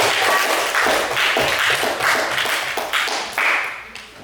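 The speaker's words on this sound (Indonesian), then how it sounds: "Berikan aplaus untuk kelompok 3" A classroom of sixth-grade students applauds a group returning to their seats, with dense, close, continuous clapping that swells in bursts and fades slightly toward the end.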